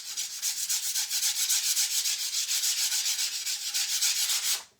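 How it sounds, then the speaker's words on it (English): Sandpaper rubbing over a painted wooden sign in quick, steady back-and-forth strokes, close and clear, stopping abruptly at the end. "I'm going to sand over it. I always sand over it a little bit."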